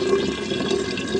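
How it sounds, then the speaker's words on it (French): Water steadily pouring and running, likely from a container during home kefir preparation, a continuous close liquid flow without speech. "c'est comme ça que l'eau devrait couler"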